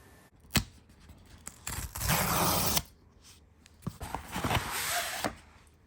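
Scissors cutting through Cricut cuttable patch material, close and clear, with a sharp snip and then two long rasping cuts across the sheet, separated by short pauses.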